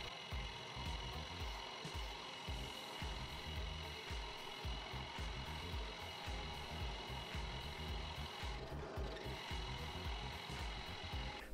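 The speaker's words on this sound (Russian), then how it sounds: "В общем, сверлю. По чуть-чуть," A drill slowly bores a large-diameter hole, up to about 25 mm, through a wooden blank for a bottle opener with minimal feed, giving a steady mechanical whir with repeated low, rhythmic grinding pulses, fairly quiet and without talk.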